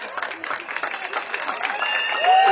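Guests clap at a Gabonese customary wedding, a moderate scattered clapping with voices mixed in that builds slightly toward the end.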